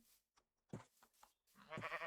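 Sheep in modded Minecraft bleat in a few short, wavering cries, quiet and close, separated by brief pauses, with no talking over them.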